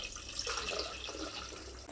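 Water splashes and trickles into a cooking pot while a homemade soapnut liquid detergent is being prepared. The pour is brief and faint, with a soft, continuous wash of liquid.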